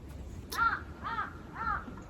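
Crows caw three times at a mountain backpacking campsite, each harsh call spaced about half a second apart, fairly distant over a low outdoor rumble.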